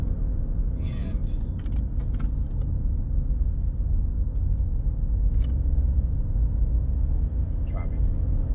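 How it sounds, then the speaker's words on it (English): Steady low road traffic rumble from passing cars, continuous and moderately loud, with a few brief clicks and jangles on top. "traffic."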